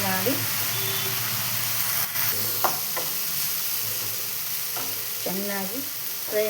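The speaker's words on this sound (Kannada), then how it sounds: "ಸೇರಿಸಿ ಚೆನ್ನಾಗಿ ಫ್ರೈ" Fenugreek sprouts frying in a pan with turmeric, salt and chili powder give a steady hiss, broken by a few scraping stirs and brief clinks; background speech and faint tonal sounds appear at moments.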